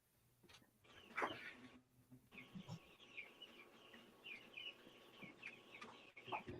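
Roosters cluck and crow at a distance, faint, with repeated squawking calls overlapping across several seconds and no talk.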